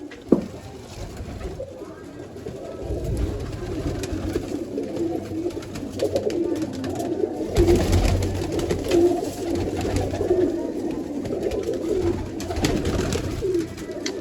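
Pigeons coo repeatedly in low, soft rolling calls, several birds close by, over a steady hum of outdoor background noise.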